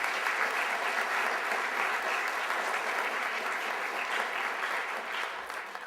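Sustained, dense applause from a large audience at a literary awards ceremony, steady and loud throughout, fading slightly near the end, with no voices over it.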